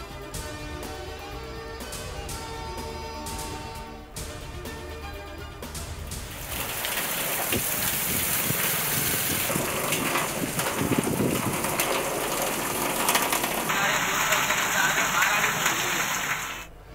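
Heavy stormy rain pours steadily after a stretch of music, a dense, loud wash of water that continues throughout, with a brief higher tone near the end.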